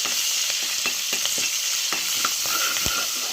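Urad and chana dal frying in hot oil for a simple curry, with green chillies going in: a steady broad sizzle throughout, broken by several sharp clicks and scrapes of stirring, close and fairly loud, no voices.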